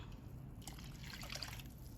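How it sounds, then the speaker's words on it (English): Water trickles and splashes steadily into a small blender, a continuous liquid pour with light splattering throughout. "add some water to the little blender to take everything out"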